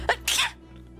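A single sharp human sneeze, a quick intake followed by a loud burst, close by and alone over faint room hum.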